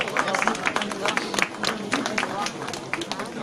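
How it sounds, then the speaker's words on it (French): An audience applauds an olive prize winner at an award ceremony: dense, steady clapping from a crowd with a murmur of voices underneath, continuous for the whole stretch. "On peut l'applaudir."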